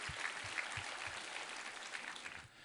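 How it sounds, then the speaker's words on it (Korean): A church congregation applauds together in a sustained, moderately distant wash of clapping, soft overall, with a few low thumps and a slight fade at the end. "우리 하나님께 감사와 영광의 박수를 올려드리겠습니다."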